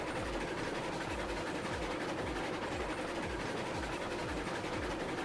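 Steam locomotives in Railroads Online hauling toward a coal mine, a steady rumbling chug with rhythmic low clacking running continuously at moderate level, no talk over it.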